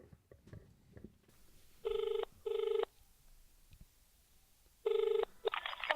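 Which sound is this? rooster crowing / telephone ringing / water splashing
telephone ringing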